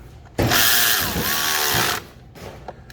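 A power tool runs in one continuous burst of about a second and a half, driving 10mm bolts while a serpentine belt is fitted on a 2003 Ford Thunderbird. It whirs loud and close, with a brief quieter buzz after.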